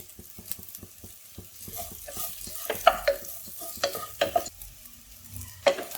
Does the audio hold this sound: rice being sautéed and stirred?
yes